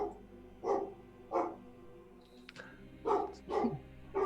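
A voice imitates a dog's bark with five deep, separate woofs in an irregular rhythm, close and fairly loud.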